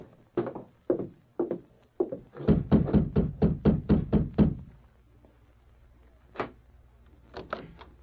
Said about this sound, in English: then advanced and rapped on the door